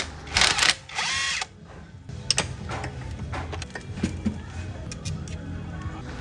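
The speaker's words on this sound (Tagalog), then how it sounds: "Baklasin muna natin yung apat na size 10 sa radiator niya." Someone unscrews four size 10 bolts from the radiator of a Honda Click 125 scooter with a power tool, giving two short whirring bursts followed by scattered clinks and handling clatter close by.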